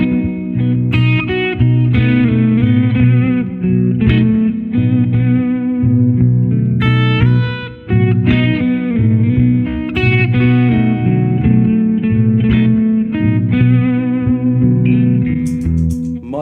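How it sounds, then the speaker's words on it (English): An electric guitar plays an improvised blues solo with bent, sustained notes over a steady blues backing track with bass and drums, loud and continuous throughout. "let's see if we can get a better solo now over this blues bag track."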